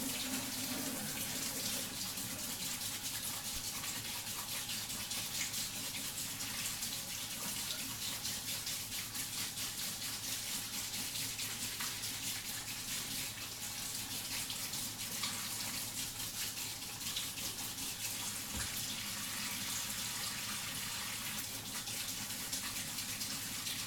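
A kitchen tap runs steadily while a fork is washed under the stream. The water rushes in a continuous, even hiss for the whole stretch, fairly close and moderately loud, with no talking over it.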